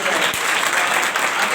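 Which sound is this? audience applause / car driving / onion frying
audience applause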